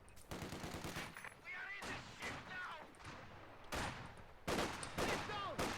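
Rapid rifle and machine-gun bursts crackle as Ostruppen infantry fire through a window in a Company of Heroes-style strategy game, dense overlapping shots in uneven clusters with faint whizzing tones.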